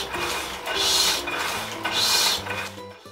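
An old printing press runs in a print shop, with a rhythmic mechanical cycle of swelling clanks and rasping strokes that repeats about once a second, loud and close.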